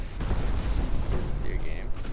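Warship broadside gunfire in the naval game Ultimate Admiral: Dreadnoughts, a dense rumbling barrage of heavy booms that overlap in a continuous loud roar of artillery.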